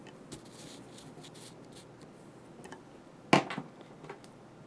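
Alcohol markers stroke across paper in quiet scratchy swipes, with a sharper louder scrape near the middle and light handling noises around it, no talk.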